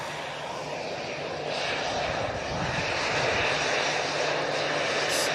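A Jet2 airliner's jet engines roar steadily at Manchester Airport, a broad, loud rumble that swells slightly as the aircraft moves in front of the listener, with no talk over it.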